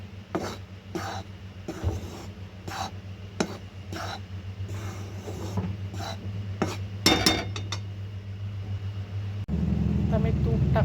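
A spoon stirs a methi laddu mixture in a metal pan with repeated scraping and clinking strokes at an irregular pace. The strokes sit close over a steady low hum, and someone talks between them.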